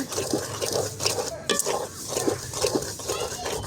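Grated coconut roasting in a pan is stirred with a utensil, giving a close, steady scraping and rustling with soft sizzling and a few sharper knocks against the pan.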